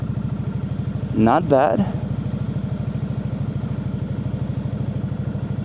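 A KOVE 625V Lancer cruiser motorcycle rolls along very slowly, its engine holding a steady low, even pulse throughout, with a rider briefly speaking over it.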